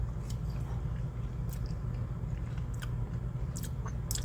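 Someone tastes prepared peanut butter powder, producing faint, close mouth sounds: small smacks and soft chewing clicks scattered over a steady low background, with no speech.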